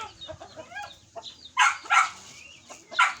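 A mother hen clucks near the microphone in short, loud bursts separated by quieter pauses, with softer chicken sounds in between.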